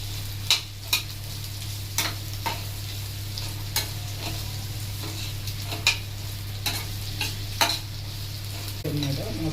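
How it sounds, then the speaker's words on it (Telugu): Chopped ivy gourd pieces fry in a spoonful of oil in a pan over low flame, with a steady soft sizzle and hum broken by sharp, irregular clicks and scrapes of stirring. "తరిగి పెట్టుకున్న దొండకాయలు లో ఫ్లేమ్ మీద మద్దనివ్వాలి"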